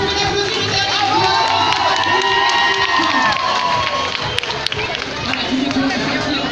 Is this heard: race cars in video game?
no